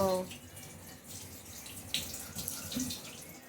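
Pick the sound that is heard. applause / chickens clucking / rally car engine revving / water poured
water poured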